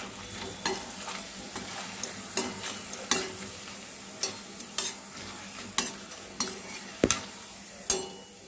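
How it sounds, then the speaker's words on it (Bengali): Homemade potato chips fry in hot oil with a steady sizzle while a utensil stirs and turns them, giving a dozen or so sharp clinks against the pan at an uneven pace, up close with no talking. "আস্তে আস্তে উল্টে পাল্টে এটা সুন্দর করে ভেজে নিতে হবে।"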